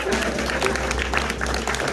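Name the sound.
applause for audience member at improv show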